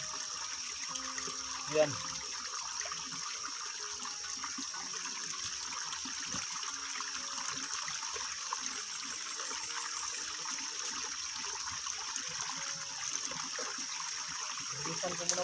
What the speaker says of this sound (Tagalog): Lumakas yung tubig tol, no?